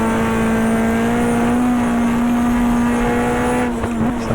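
Touring cars at Oran Park race into the final corner in the last race of the 1994 Australian Manufacturers Championship, a loud sustained engine drone holding steady pitch throughout, with a brief shift near the end.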